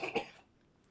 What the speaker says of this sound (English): I just clear my throat